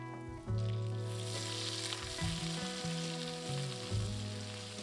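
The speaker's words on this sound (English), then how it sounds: "Add some butter to a pan," Butter melting in a pan on the stove, a steady close sizzle and fry with occasional scraping stir sounds and faint clatter, no talking.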